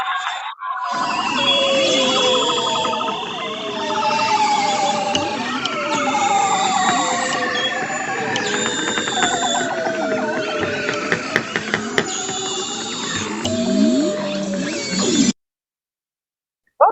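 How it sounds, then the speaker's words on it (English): Underwater Arctic chorus of walrus, bearded seals, bowhead whales and belugas: overlapping tonal moans, rising whistles, trills and clicks layer densely and loudly for about fifteen seconds, then cut to silence. "What you're listening to now, walrus and bearded seals, and bowhead whales and belugas,"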